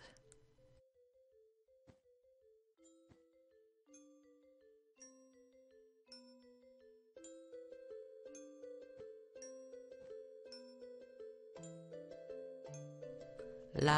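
Carol of the Bells played as a chiming, bell-like melody inside a Minecraft Christmas mod, starting sparse and quiet, then thickening into layered tones that grow louder, with no talking over it.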